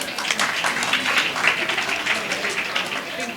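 Audience applause welcoming ministers and guests at a children's sanskar event during a satsang gathering, a steady dense patter of many hands filling the whole stretch at moderate loudness.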